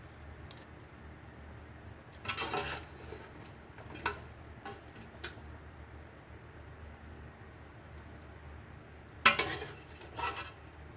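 Boiled chicken feet are tipped into a metal strainer, giving scattered clanks and soft wet thuds spread over the clip, with several sharper knocks of the strainer and pot against a quiet background.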